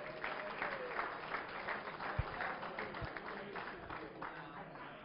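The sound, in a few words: banquet audience applause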